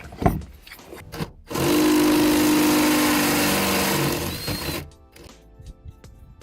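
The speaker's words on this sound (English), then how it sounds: "Step drill bit, I need to go essentially 3 steps for this." A loud, steady grinding whir of a step drill bit biting into metal on a vintage Porsche 911 for about three seconds, preceded and followed by brief clunks and handling noise.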